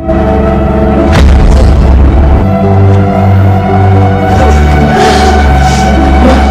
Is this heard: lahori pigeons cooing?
no